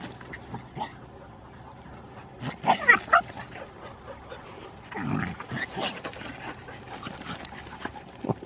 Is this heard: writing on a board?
no